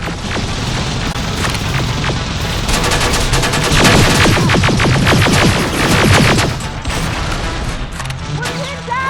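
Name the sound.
gunfire in the Terminator Resistance video game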